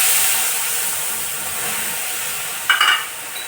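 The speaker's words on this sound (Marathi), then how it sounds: "त्याच्यात आपण आता पाणी टाकणार आहे" Water goes into a hot pan with a pinch of hing and roasted green chillies for a dhokla tempering: a steady close sizzle, then a sudden sharp hissing burst as the water hits, quickly fading.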